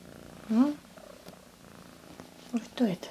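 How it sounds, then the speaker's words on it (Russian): A cat purrs softly and steadily up close, with a few brief louder bursts of sound rising over the low rumble. "Да что ж это за мурчун?"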